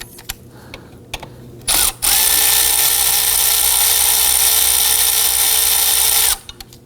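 A ratchet wrench with a 12mm socket clicks a few times, then a long loud mechanical whirring run follows as the belt tensioner adjuster on a 2005-2009 Subaru Legacy 2.5L engine is backed off, stopping abruptly near the end.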